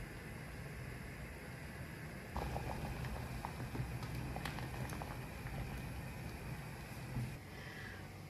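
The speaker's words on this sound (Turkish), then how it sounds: "Pancarlarımız kaynamaya başladı." Beets for pickles boil in a pot, giving a steady bubbling hiss with faint pops and crackles. The sound stays low and constant throughout.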